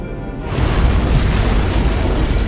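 An antimatter charge goes off aboard a ship in Halo: Combat Evolved, a sudden loud deep boom that swells into a sustained rumbling roar lasting a few seconds, with no voices.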